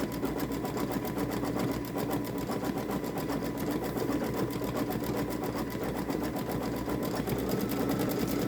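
A Babylock Solaris Vision embroidery machine stitches a summer garden gnome design, its needle chattering in a fast, steady mechanical rhythm up close, with no talking.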